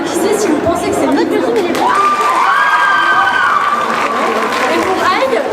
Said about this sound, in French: Applaudissez si vous pensez que c'est Nico.